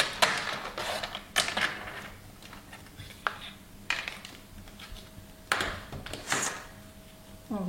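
Paper is cut for a handmade wedding album with scissors or a cutter: a run of crisp, close snips and slicing strokes, several short bursts spaced a second or so apart over faint background noise.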